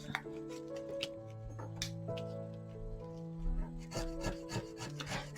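A scratch-off lottery card with a ferret theme being scraped, short rubbing scratches in bursts over a steady tonal background hum, close and moderately quiet.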